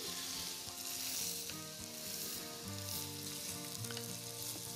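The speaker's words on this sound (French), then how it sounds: "On va mettre notre riz." Italian arborio risotto rice hitting a hot pan, crackling and sizzling steadily up close, with a few stirring scrapes and no talk.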